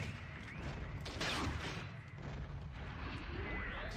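Red Riot weapon fired from behind in the video game Shogo: Mobile Armor Division, a sustained roaring blast with rumbling low-end booms lasting several seconds, fairly loud in the mix.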